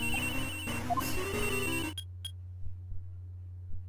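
Several cell phones ring at once in the video game Ace Attorney Investigations 2, a loud layered electronic ringtone chorus that stops abruptly partway through, leaving a steady low hum and a few faint clicks.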